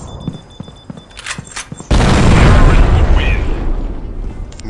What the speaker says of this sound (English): Did that nade actually, like, deflect back at me?